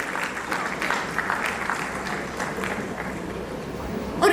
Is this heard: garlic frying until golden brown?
no